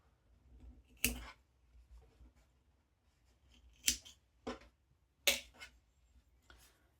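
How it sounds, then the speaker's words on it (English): Scissors snip through yarn at the end of a small crocheted reindeer wreath, giving a few crisp, close cuts spaced a second or two apart against a quiet room. "Once I'm happy with it, I can snip my yarn off."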